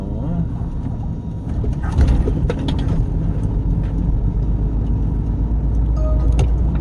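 A car rolls over a high speed bump on a road, with steady low road and engine rumble throughout and a slightly louder thump about two seconds in.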